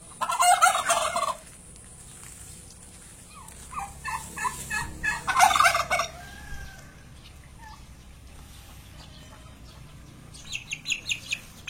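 Palembang turkeys gobble in loud, rapid bursts on a farm, with a strong call at the start, another midway and a shorter flurry near the end, separated by quieter clucking and background noise.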